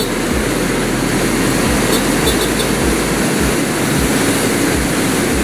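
A Honda Click 125 scooter engine at full throttle, a loud steady drone and rushing wind noise that holds constant throughout, with no voices.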